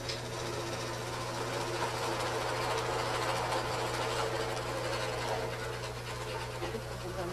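A sewing machine runs continuously while workers stitch blankets at an African clinic, a steady mechanical whir with a low hum throughout, no talk.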